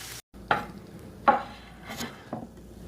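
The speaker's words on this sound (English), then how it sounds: "I'm going to reduce that until all of the liquid is gone and incorporate it into the onions." Onions caramelizing in a pan as added liquid cooks down, with a few separate scraping and stirring strokes about a second apart over a faint sizzle, and no talking.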